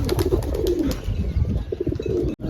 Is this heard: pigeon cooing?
yes